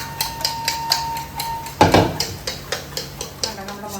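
Eggs beaten for an omelette, a fork or whisk clicking against the bowl in quick, regular close-up strokes, with one louder knock partway through.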